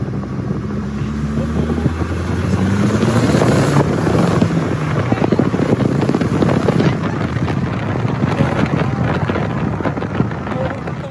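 A Volkswagen GTI with 130,000 miles runs after a Seafoam engine treatment, its exhaust giving a steady, loud low rumble with gusty wind buffeting the microphone throughout.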